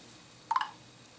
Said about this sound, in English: The first one here you have is Adara.